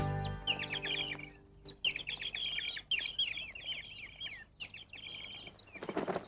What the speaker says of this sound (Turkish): Ah bir kuş sürüsü.